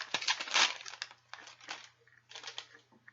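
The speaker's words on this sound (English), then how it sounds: "I like to test that with a piece of paper" A piece of paper or thin card handled close by during a clarinet lesson, with irregular crinkling and rustling bursts, loudest near the start and then coming in quieter scattered crackles with short pauses.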